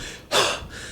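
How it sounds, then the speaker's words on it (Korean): A single sharp, heavy breath bursts in close to the mic during a treadmill cardio fitness test, a loud rushing exhale that holds for a moment and then fades back into a steady airy background. "숨소리가 들리는데"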